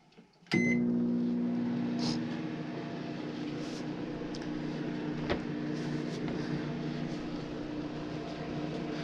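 A microwave oven heating plastic for remelting starts with a short click and then runs with a steady low hum and faint rattles for several seconds, nearby and alone.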